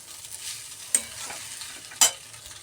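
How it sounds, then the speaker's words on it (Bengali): Pasta with egg is stirred and fried in a pan, a soft continuous sizzle broken by two sharp spoon scrapes against the metal, close, with no voices. "একটু নাড়াচাড়া করে নেব, ভাজতে দেবো"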